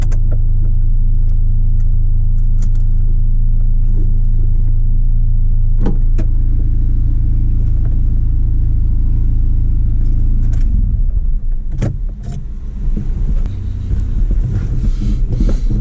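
A 25-year-old project truck idles roughly, a loud, close, deep rumble that holds steady and then wavers and shifts, with a few sharp clicks and knocks over it.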